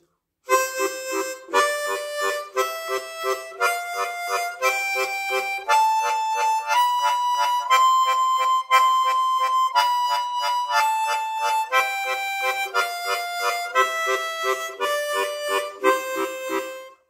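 A harmonica plays a waltz-time run of about fourteen short, evenly spaced tongue-slapped notes, each struck on the beat, the pitch stepping upward and then back down, bright and close with no other sounds.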